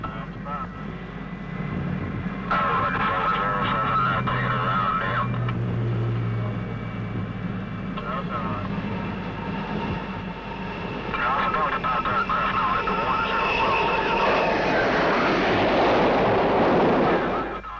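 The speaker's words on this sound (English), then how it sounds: "Stand clear of jet intakes and jet exhaust." Jet aircraft engines roar on the flight deck of the aircraft carrier Enterprise during 1960s Vietnam War bombing operations, a loud, sustained rumble and whine that swells and surges as planes start up.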